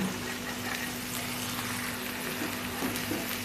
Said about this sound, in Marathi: मसाले चांगले फ्राय झालेत आता आपण यामध्ये मटकी टाकून घेऊ